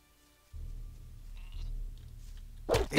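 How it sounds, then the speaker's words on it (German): Sheep bleating in the video game Gothic 2: a low steady bleat starts after a brief quiet and holds at moderate level, then a louder noisy burst at the end. "Oh, da ist ein Schaf."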